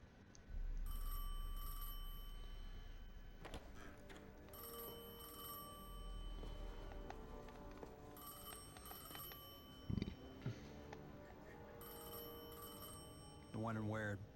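A telephone rings repeatedly inside the video game Destiny 2, its bell tones repeating over a low droning game soundtrack, with brief voice-like sounds and a rising tonal sweep toward the end.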